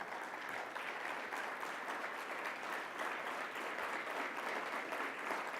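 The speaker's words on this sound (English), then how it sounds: "That's worth a great round of applause." Steady audience applause at an awards event, dense continuous clapping from a large crowd that holds at an even level throughout.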